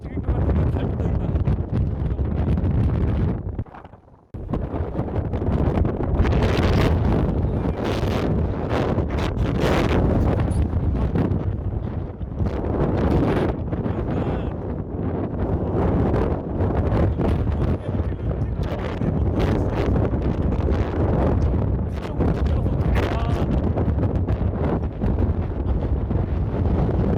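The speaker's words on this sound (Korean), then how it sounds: "바람이 나를 감겨주고 있어." Strong gale-force wind on a mountain trekking trail at Seonjaryeong, buffeting the microphone in loud, continuous roaring gusts, with a brief lull near the start.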